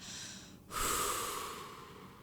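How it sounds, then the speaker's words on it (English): A slow, soft breath, a brief quiet inhale followed by a longer, louder exhale out through the mouth, close and alone in a quiet room. "Inhale in, exhale out."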